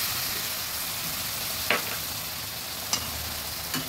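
Steady, close frying sizzle as hot water goes into a pan of tengra fish curry with green chillies, with a few sharp clicks and spatters over the continuous hiss.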